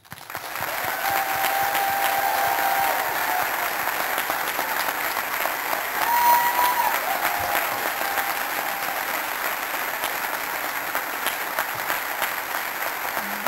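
Sustained, steady applause from a graduation audience for the class of 2022, continuous and full for over thirteen seconds, slightly swelling midway, with no speech over it.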